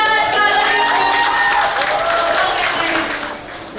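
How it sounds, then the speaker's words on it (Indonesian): A crowd at the closing of McDonald's Sarinah applauds the restaurant's last customer, with brisk, close clapping mixed with cheering voices and tonal background sound that eases slightly toward the end. "Tepuk tangan."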